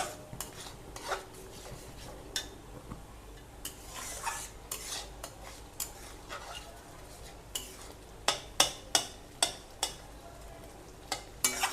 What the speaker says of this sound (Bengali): এবার দিয়ে দেবো অল্প একটু হলুদের গুঁড়ো দিয়ে এগুলোকে একটু খুব ভালো করে নাড়াচাড়া করে নেব